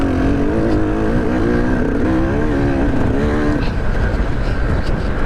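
Dirt bike engine revving hard at a farm jam event, a loud sustained motor drone with wavering pitch that climbs and falls steadily for the whole stretch, close and alone without talk.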